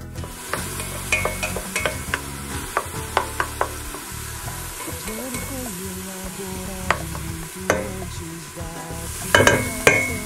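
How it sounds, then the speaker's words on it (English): Garlic and diced onion sautéing in olive oil in a pan, with a steady sizzle broken by repeated scrapes and clicks of a utensil stirring. "we're going to saute until the onions are just nice and clear"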